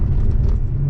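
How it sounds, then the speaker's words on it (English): Maserati naturally aspirated V8 engine giving a short, loud, deep rumbling burst, steady throughout, with no voices. "I'm a big fan of the V8s, naturally aspirated. I think they make a great sound."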